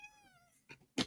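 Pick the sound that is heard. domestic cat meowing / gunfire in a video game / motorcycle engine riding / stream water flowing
domestic cat meowing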